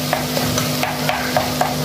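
Medium-size tomatoes being sautéed in a pan, a steady soft sizzle with regular scraping stir strokes about every quarter second, close and alone without talk.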